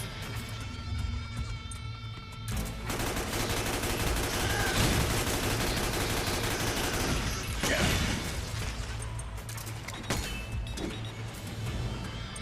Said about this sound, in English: Gotta love some needless gunplay.